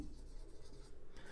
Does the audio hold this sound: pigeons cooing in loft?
no